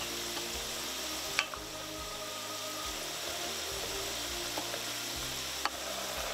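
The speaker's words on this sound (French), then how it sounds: "Tournez bien, laisse l'oignon là bien roussir." Chopped onion browning in a pot with crushed ginger, stirred now and then for a festive meat daube, giving a steady close sizzle with a couple of sharp knocks from the spoon against the pot.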